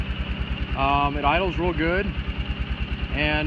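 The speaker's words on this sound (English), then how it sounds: "It idles real good" A 2008 Kawasaki Prairie 360 4x4 ATV engine idles steadily with an even low pulsing throb, running throughout while someone talks over it close by.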